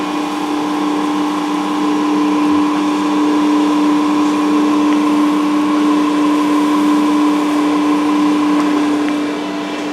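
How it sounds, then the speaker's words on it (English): An Amada CCP103H chip compactor runs its auger with a loud, steady mechanical whine and a constant tonal hum, close and unbroken, with no talking. "You can see the auger moving."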